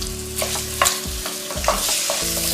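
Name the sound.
shrimp and jalapeno sizzling, stirred in pan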